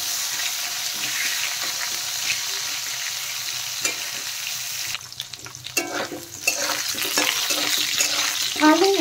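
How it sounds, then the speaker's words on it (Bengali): Cut potatoes lightly frying in oil with whole cumin and bay leaf, a steady close sizzle with a few spatula knocks, a short dip, then renewed louder frying and sputtering. "আলু হালকা ভেজে নেব প্রথমে"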